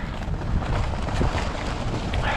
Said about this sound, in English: The breeze is so nice. The wind changed direction though.